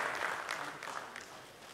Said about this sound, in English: please give him a big clap